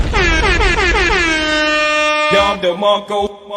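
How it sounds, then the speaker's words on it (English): A loud, blaring air horn sounds in long sustained blasts, then breaks into shorter stuttering honks near the end. "I'm gonna give you a air horn for showing me some love."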